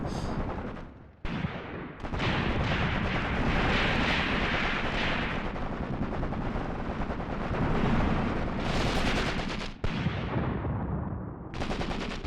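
Dense gunfire and explosions roar through an enemy assault in the Graviteam Tactics: Mius Front war game, with rapid machine-gun bursts and heavy booms nearly continuous and loud, broken by a few brief cuts.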